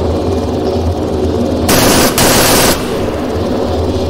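Helicopter door gunners firing machine guns in the Arma 3 video game, one loud dense burst of rapid automatic fire lasting about a second, broken by a brief pause, over a steady engine drone.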